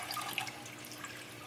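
Water trickles steadily through layered filter fabric in a homemade aquarium sump, a soft continuous splashing and dribbling with no voices.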